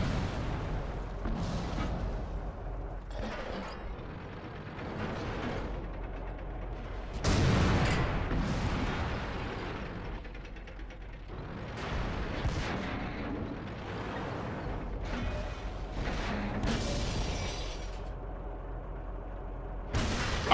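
Tank cannon fire and explosions in World of Tanks from an E-75 with a 12.8cm gun, heavy booming blasts recurring at irregular intervals over a constant rumbling engine and battle din.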